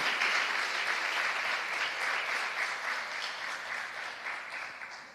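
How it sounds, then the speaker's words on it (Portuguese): A congregation applauding during a church conference worship service, dense clapping blending into a smooth, rolling wash that stays strong and steady and slowly fades a little over five seconds, with no voices on top. "Aplauda o nome do Senhor."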